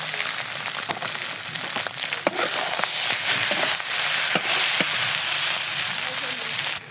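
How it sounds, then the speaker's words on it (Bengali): Pasta tipped into a little hot oil in a pan fries with a dense, continuous close sizzle, scattered with small crackles and a few sharp clicks throughout. "এখন আমি পাস্তাগুলো ঢেলে দেবো।"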